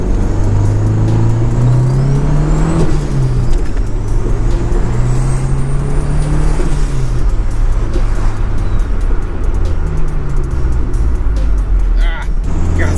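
A turbocharged car accelerates hard in second gear. The loud, close engine roar climbs steadily in pitch, with a whining turbo sweep above it, and eases briefly between pulls over about thirteen seconds.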